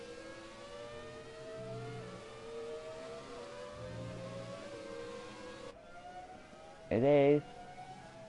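An old Formula 1 car engine in an F1 racing game whines at a steady high pitch, with a short loud rising rev burst near the end, heard faintly under a commentator-style voice.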